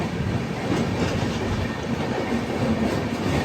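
The 19019 Haridwar Express runs along the line from Mumbai, a close continuous rumble of wheels on rails with steady clickety-clack through the whole stretch.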